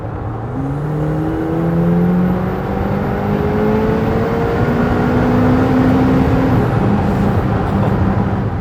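McLaren Artura Spider with a V6 engine, driven on the road, its loud continuous engine note shifting in pitch through downshifts, steady and close with no talk.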